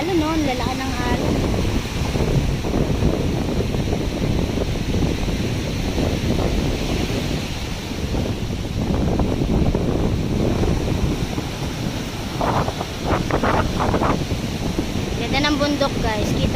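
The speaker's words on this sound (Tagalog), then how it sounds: "Lakas ng alon, no?" Strong surf rolling in at a beach resort in Lemery, Batangas, a steady broadband wash of waves mixed with wind buffeting the microphone, with people talking over it throughout.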